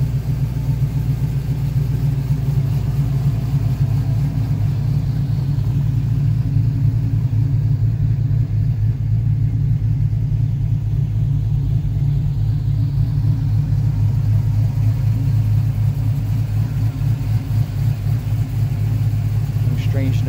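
A cammed LS V8 swapped into a 1972 Chevrolet C10 pickup idles steadily and loudly, with a slightly uneven, loping chop throughout and no other sounds on top.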